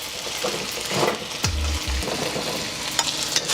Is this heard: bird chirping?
no